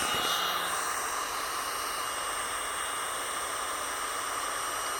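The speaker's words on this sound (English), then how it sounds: "I'm going to take my pump, just going to put it right over here, and I'm going to turn it on." Electric air pump running steadily as it inflates a Sable inflatable pool (model SA-HF071), a constant loud broadband whirring hiss with a sharper start in the first moment, no voices.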